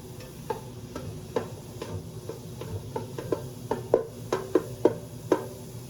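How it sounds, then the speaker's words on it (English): Mushrooms sautéing in a pan over medium-high heat, with a soft background sizzle and scattered sharp ticks and pops that grow more frequent, close and fairly quiet, no voices. "your heat on high, medium high, and just let the mushroom saute"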